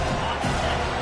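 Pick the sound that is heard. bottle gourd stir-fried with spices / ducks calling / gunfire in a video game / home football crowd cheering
home football crowd cheering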